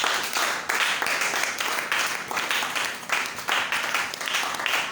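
A church congregation at a Bible seminar bursts into applause and acclaim, a dense, sustained crowd of clapping and cheering voices with rhythmic surges throughout.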